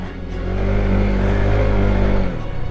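A motorcycle engine drones loud and close as it labours up a steep mountain road in Nueva Vizcaya, holding a strained, steady pitch before easing off near the end.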